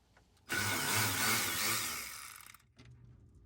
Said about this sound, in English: unscrewing the 3 T25s that kind of hold the fog light in place